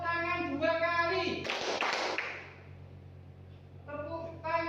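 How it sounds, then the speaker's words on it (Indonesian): A class of students claps twice in a short, sharp burst, sandwiched between stretches of an adult voice speaking before and after. "Sekarang tepuk tangan 2 kali."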